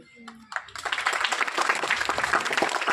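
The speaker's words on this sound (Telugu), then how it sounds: "క్లాప్స్." Students applaud at a district-level school mathematics talent competition held in a high school hall, a burst of many hands clapping that starts abruptly and fills the room steadily, with faint voices at the start.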